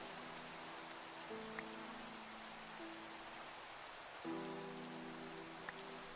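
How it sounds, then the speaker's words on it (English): Minecraft rain falls steadily as a soft, even hiss, with faint game tones and a couple of small clicks over it. "It's raining again in Minecraft in my world."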